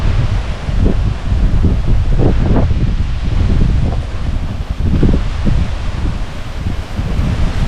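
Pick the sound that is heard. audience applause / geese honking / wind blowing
wind blowing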